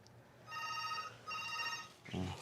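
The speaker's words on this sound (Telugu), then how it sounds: "ఫోన్ కూడా వచ్చింది." A phone rings indoors in two short electronic trills, each about half a second long. The rings are fairly quiet, and a brief soft bump follows the second one.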